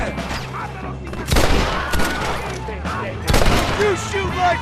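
Gunfire in the Western game Red Dead Redemption comes as several loud volleys of shots in quick succession, with shouting voices in between.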